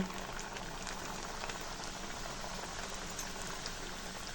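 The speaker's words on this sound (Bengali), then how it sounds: "মিডিয়াম আঁচে ফ্রাই করে নেব।" Thin-cut khaja pastry pieces fry in hot oil over medium heat, giving a steady, dense crackling sizzle that holds evenly throughout with no voices.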